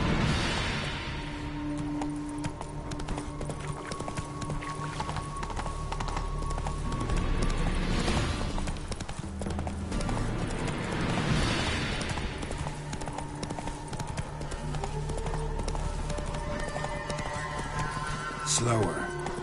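A horse gallops in The Witcher 3 with steady, close clip-clop hoofbeats throughout, a rider's voice cutting in now and then, and a brief neigh near the end.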